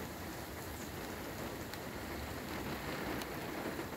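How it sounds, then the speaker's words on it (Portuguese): Heavy downpour during a windstorm in Ivaiporã, near a river in low-lying ground: dense, steady roar of rain pounding surfaces, loud and continuous with no voices. "Aguaceiro, ó."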